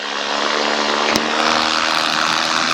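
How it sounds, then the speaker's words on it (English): A paramotor flies past in cold weather, its propeller engine a steady loud drone throughout, with a brief sharp click near the middle. "I'm gonna do a flyby"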